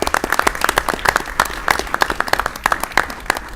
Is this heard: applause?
yes